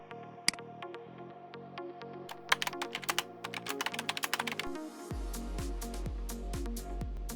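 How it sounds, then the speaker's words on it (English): Keys clatter in quick uneven bursts as someone types on a computer keyboard at a console for an embedded device board farm, close and clear, before a steady low hum takes over. "When it is on, type anything on the console."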